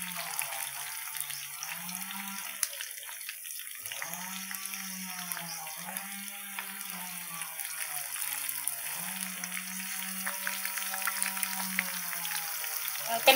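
Vegetarian mock pork ribs, soaked, torn and seasoned, fry in a pan with a steady, continuous sizzling hiss throughout, plus a faint low tonal hum underneath.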